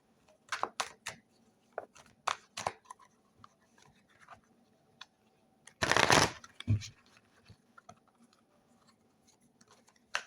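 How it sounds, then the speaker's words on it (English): Cards being shuffled in several quick, crisp riffling bursts, separated by quiet pauses, with one louder, longer shuffle midway. "The cards a quick shuffle here."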